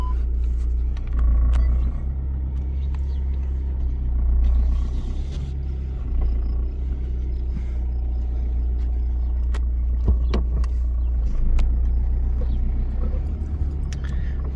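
A regular car drives down a rough farm road, its engine a steady low rumble heard from inside, with light rattles and bumps from the uneven surface and no talking.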